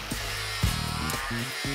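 An angle grinder fitted with a 60-grit fibre disc blends a metal surface smooth. A loud, steady whine with a brief bump in load runs close by and alone.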